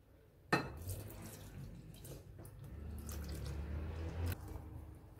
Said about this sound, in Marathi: हे अर्धा लिटर दूध घेतलं आहे, हे यात आपण घालूया।